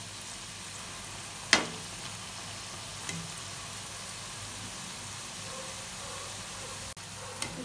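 Potato and onion bajji deep frying in hot oil, a steady close sizzle and hiss with occasional stirring clinks as the fritters are turned.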